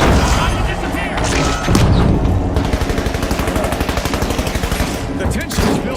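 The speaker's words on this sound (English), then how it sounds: "Frag grenade out!" Frag grenade and heavy weapons fire in a ranked video game match, dense booming blasts followed by a long steady rattle of rapid automatic shots, loud and close with game commentary running underneath.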